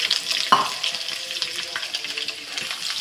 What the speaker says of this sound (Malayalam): അതിലേക്ക് ഇതാ ഒരു സ്പൂണ് മിൽമ നെയ്യ് ഇടുന്നുണ്ട് അങ്ങനെ നമുക്ക് മിൽമ നെയ്യും പാമോലും നന്നായി ചൂടായിട്ടുണ്ട് അതിലേക്ക് ഉള്ളി ഇടുന്നുണ്ട്